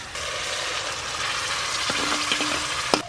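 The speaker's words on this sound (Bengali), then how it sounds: "সমস্ত মশলা খুব ভালো করে কষানো হয়ে গেছে, সেদ্ধ করে রাখা ছোলার ডাল দেব।" Boiled chana dal tipped into a pan of sautéed spices, frying with a steady broadband sizzle throughout, a few sharp clinks of a utensil against the pan near the end.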